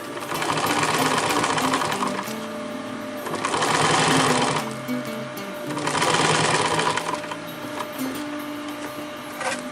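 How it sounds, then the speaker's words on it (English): A sewing machine stitches backpack fabric and webbing for a 50L roll-top backpack, running in steady rapid bursts that swell louder twice, close and alone. "give it a sew it 3 times, back and forth, and continue with the other side"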